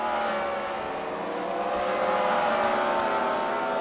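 Race cars at a CWRL fight night at the Freedom Factory track, engines droning steadily at sustained speed and swelling slightly as they pass, loud and continuous with no voices.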